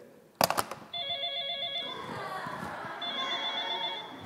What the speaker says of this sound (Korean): 오늘따라 이렇게 전화가 많이 오네요.